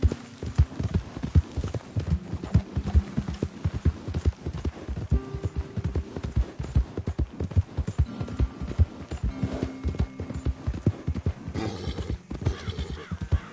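Horse hooves gallop in a steady, rapid clip-clop rhythm throughout a Red Dead Redemption 2 game ride, with occasional neighs and whinnies over the pounding beat.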